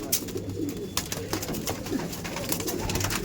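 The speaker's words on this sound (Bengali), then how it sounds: "এই পায়রাটা খুব ছটপট করছে।" A restless pigeon at a loft sale coos and flutters, with short wing-flap bursts and low coos repeating close by over a busy background.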